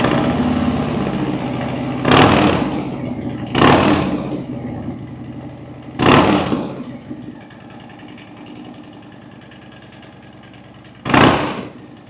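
A 2025 Harley-Davidson Street Bob V-twin fitted with a TAB aftermarket exhaust fires up and idles with a steady rumble, broken by four sharp, loud throttle blips at intervals, close by, with no talking.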